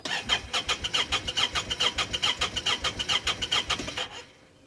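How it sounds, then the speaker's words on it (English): A side-by-side UTV engine, bought at auction as inoperable, cranks over and over in a fast rhythmic chug while struggling to fire in low range, loud and close, ending abruptly near the end. "It's not wanting to run, not wanting to start in low range for some reason."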